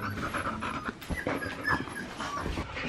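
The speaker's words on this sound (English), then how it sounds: "Big dogs." Big dogs pant heavily and close by in rapid, rhythmic breaths, with a few soft whimpers mixed in over the short stretch.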